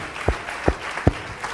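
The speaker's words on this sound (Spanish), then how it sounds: "Denle un aplauso al Señor, aleluya." A church congregation claps in a few sharp, slow, evenly spaced beats, short and close, with no cheering.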